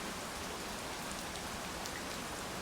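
Steady rain falling on a surface, a dense, even hiss of drops with no thunder or voices.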